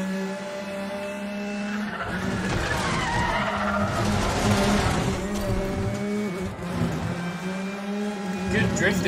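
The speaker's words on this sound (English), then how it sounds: "Good drifting bonus there." Car drifting with tire skid in the Need For Speed The Run video game, a continuous loud engine drone with a prolonged squealing tire skid building and fading across the stretch.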